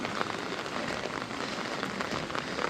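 Steady rain falls near a Buddhist stupa in Nepal, a dense even patter on surfaces that holds for the whole stretch with no voices.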